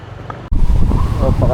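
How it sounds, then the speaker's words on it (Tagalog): Strong wind buffets the microphone at a hillside motorcycle campsite, a loud gusty roar that surges after a brief lull, with a person speaking over it. "Napakalakas ng hangin."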